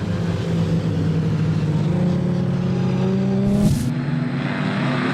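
Modified sedan race cars accelerate off the start at Lismore Speedway in Australia, with a steady loud engine roar, layered revving tones and a brief higher burst as cars pass, and no talk.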